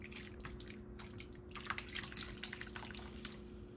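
Peach cobbler filling is poured into a baking pan, giving faint wet drips and soft plops over a quiet kitchen background, with no talking.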